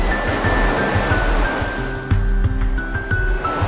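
Ocean surf rolling onto the beach at Punta del Este, a steady loud wash of breaking waves with a deeper surge partway through and no voices.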